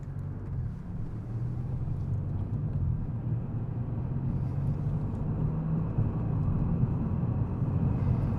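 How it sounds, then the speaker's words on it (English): A Maserati MC20 Cielo's mid-mounted engine drones steadily while cruising, a low, even rumble with a faint hum underneath, heard from inside the cabin and growing slightly louder over about eight seconds. "You should be able to hear the engine"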